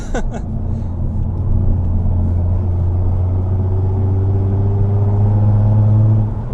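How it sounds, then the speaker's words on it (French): A 2012 Hyundai Genesis Coupé with a 3.8 litre V6 pulls under light throttle, its engine note rising smoothly in a loud, steady drone heard from inside the car, with no talk over it. "j'augmente un tout petit peu le filet de gaz"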